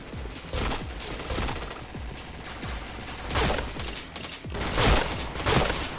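Rapid bursts of gunfire from the online shooter game Point Blank, repeated volleys of sharp shots close and loud, with brief pauses between bursts and no talk over them.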